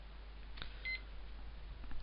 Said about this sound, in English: It's just beeped at us.